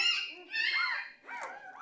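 Seven-day-old puppies whimpering and squeaking in high, wavering cries, several close-up yelps coming in short bursts with brief pauses between them.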